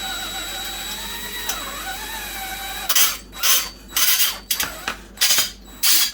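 A power drill whines in short, loud bursts as it spins a rivet on a car's quarter light window frame, starting and stopping repeatedly after a quieter steady mechanical hum.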